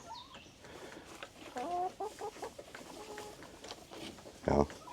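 Chickens in a backyard flock in Thailand cluck and chatter in short bursts, with one louder squawk near the end, over steady outdoor background noise.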